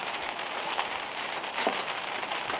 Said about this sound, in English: you can now see or hear why I have the awning, because it is now raining